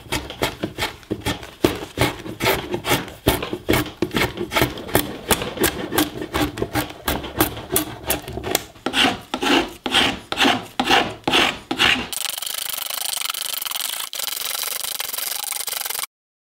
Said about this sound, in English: I'm going to use my draw knife and spoke shave to remove it all, exposing the virgin wood below